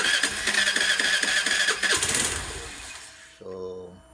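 A year-old Suzuki Burgman 125 scooter with a fault that makes it lose its idle is started: a loud whirring crank for about three seconds, then the engine catches and settles into a lower, steady idle, close by.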